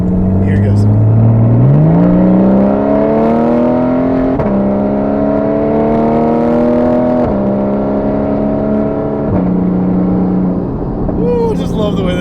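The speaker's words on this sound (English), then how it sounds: "here's a nice good acceleration. Still in normal mode. Here it goes." A Porsche sports car, still in normal mode with the engine warming, accelerates hard in a steady loud interior drone, its pitch climbing through several gear changes marked by brief dips, close and continuous throughout.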